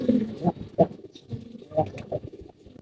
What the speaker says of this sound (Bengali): আমাদের ছাদে একটা কবুতর আসছে